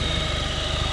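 A car fitted with a swapped SRT engine idles nearby in a steady, low, rhythmic pulse with no voices over it.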